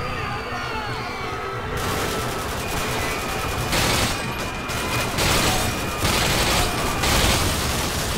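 Sustained automatic gunfire and battle noise from Call of Duty: Modern Warfare 2, rattling continuously with layered shots and mechanical clatter, loud and dense throughout, joined by a burst of heavier fire partway in.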